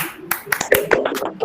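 Hands clapping in a classroom, a handful of sharp separate claps in an irregular rhythm amid people speaking close by.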